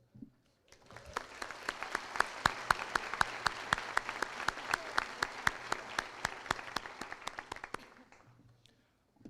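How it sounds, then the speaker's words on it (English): Crisp, rhythmic clapping from a graduation audience honoring girls' hockey and rugby teams, rising quickly, holding a steady even beat for several seconds, then tapering off. "I'd also like to give a round of applause to our girls' hockey and rugby teams for bringing home banners this year."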